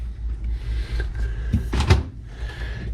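A Samsung double door fridge freezer with ice maker, in a tiny house, is pulled open: a muffled clunk and rattle of the door and drawers, followed by a brief hum from inside.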